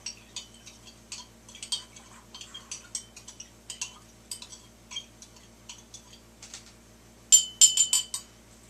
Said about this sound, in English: Now we'll go ahead and and stir that once.